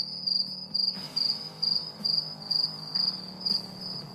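Crickets chirp in a steady, even rhythm of short repeated trills, about two per second, clear and close over a faint low background, with no voices.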